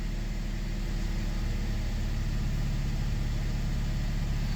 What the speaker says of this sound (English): So I rev it up and it just start misfiring.